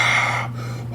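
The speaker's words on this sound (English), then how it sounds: "It almost sounded like someone breathing." A loud breathing sound effect in a spooky audio story, a single long airy exhale or gasp close up, fading into a low hum.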